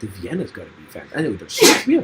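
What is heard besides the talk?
sneeze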